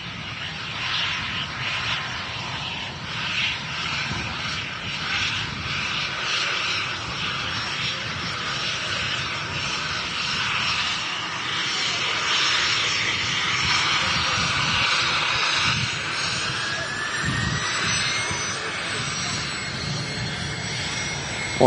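Jet airliner at Manchester Airport, a loud sustained engine roar with a high whine that holds steady and swells slightly toward the end, close by and heard alone.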